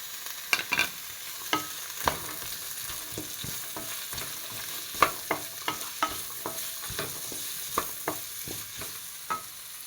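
Chopped carrot and beans frying for semiya upma, a continuous hiss of sizzling oil punctuated by many sharp clicks and scrapes from a spoon stirring in the pan, close up with no voices.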